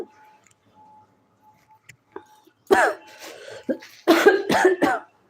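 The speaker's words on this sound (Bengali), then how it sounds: "ভীষণ কাশি লেগে গেল ঝাঁঝেতে" Coughing fits from pungent cooking fumes while frying fish-oil pakoras, with several harsh close coughs and throat clearing in two bursts after a quiet start.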